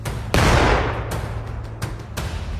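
Rifle shots fired on command at an explosives disposal unit's outdoor site: a few sharp, loud cracks spaced irregularly, each trailing into a brief echoing decay, with no talk.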